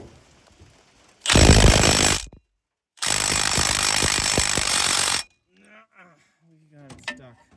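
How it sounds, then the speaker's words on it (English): Impact wrench hammering at a crank pulley on a 1958 Plymouth engine, two loud sustained bursts of rattling impacts separated by a short pause, followed by quiet talk nearby. "I'm going to hook up my impact and see if we can get it off."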